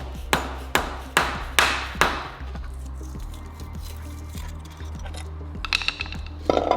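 Hammer taps on a part of a Japanese-market car, five sharp ringing metallic strikes in steady rhythm, close and loud, then scattered lighter clinks and taps under a low steady hum.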